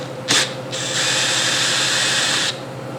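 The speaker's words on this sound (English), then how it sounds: "I'm just gonna use my drill with a flathead in it" An electric drill fitted with a flathead bit loosens the oil cap on a Kawasaki KX dirt bike: a short burst, then a steady, close mechanical whir lasting nearly two seconds before it stops.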